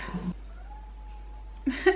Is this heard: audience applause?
no